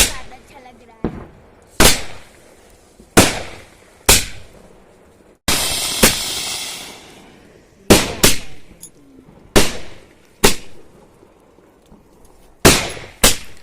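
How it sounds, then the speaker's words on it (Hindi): Diwali firecrackers bursting outdoors in Himachal, a series of sharp, loud bangs at irregular intervals with ringing decays between them, one longer crackling fizz in the middle and faint voices in the background. "पटाखे फोड़ दिए हैं और हम आ गए हैं अंदर"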